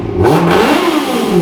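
A nearby Auto Union racing car engine revs hard, its loud rising and falling mechanical roar sustained throughout with a slight rattle.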